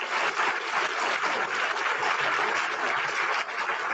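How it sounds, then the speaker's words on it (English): A conference crowd greets keynote speaker Tom Friedman at a Nature Conservancy event with a dense, even wash of clapping that holds steady for several seconds at moderate loudness. "warm round of applause"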